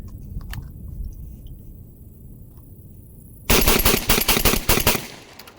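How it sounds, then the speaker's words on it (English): A Mac 1014 Benelli M4 clone shotgun fires a rapid string of loud, sharp blasts close by at an outdoor range, following a few seconds of quiet background with faint noises. "250 rounds through the Mac 1014 Benelli clone"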